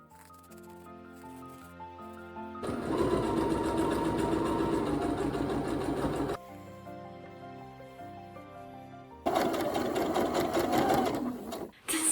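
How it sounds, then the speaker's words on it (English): A sewing machine runs in two sustained bursts, stitching a French seam with wrong sides together on a skirt, with a quieter stretch of motor hum and ticking between the bursts and no talking. "I'm gonna stitch it with wrong sides together first, since I want to do a French seam"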